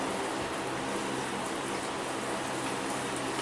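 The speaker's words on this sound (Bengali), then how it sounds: "ঠিক এইভাবে আপনি এটাকে এখন তেলের মধ্যে ডুবো তেলে ছেড়ে দিবেন। এখন এটাকে ভেজে নিচ্ছি।" Nak phul pitha, a Bengali fried snack, deep-frying in a pan of oil: a dense, even hiss of bubbling oil, close and unbroken, without any talking.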